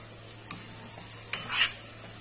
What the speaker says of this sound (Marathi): हे छान फोडणीत मिक्स करायचं.